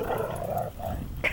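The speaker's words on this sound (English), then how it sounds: "no growling, guys." A five-month-old puppy among other young dogs gives low, rumbling growls close by, steady for about a second before a brief sharper yip at the end.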